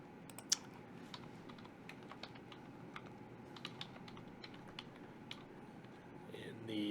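Faint, quiet clicks of someone typing a copy command on a computer keyboard in a terminal, scattered light keystrokes in an uneven rhythm over low room noise.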